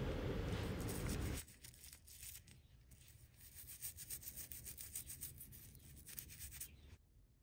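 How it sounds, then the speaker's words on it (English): Sticker being peeled off a 1989 Cannondale SM2000 bicycle frame, a close, quiet run of repeated scratchy rubbing strokes after a brief louder burst at the start, with no talking. "I decided to peel it off just in case there was a crack here underneath."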